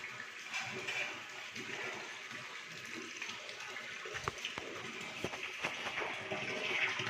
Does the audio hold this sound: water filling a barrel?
yes